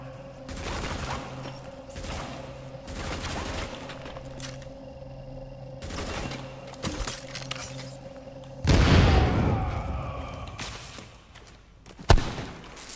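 Gunfire in The Division video game: a few scattered shot bursts and impacts over a steady game backdrop, with a heavier blast near the middle and a sharp crack near the end.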